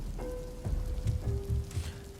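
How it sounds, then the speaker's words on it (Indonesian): Steady rain falls in an animated cartoon during the rainy season, a continuous close patter with soft drops and no voices. "Iya mas, lagi sering banget hujan di sini."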